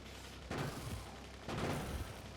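Turrets in Factorio fire at incoming attackers in two dense bursts of rapid gunfire, each a rumbling fusillade about a second long, heard at moderate level with no talking.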